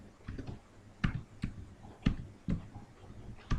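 Keys tapped on a computer keyboard while entering a mobile number into a Google Form, a handful of quiet, separate clicks spaced irregularly, close to the microphone.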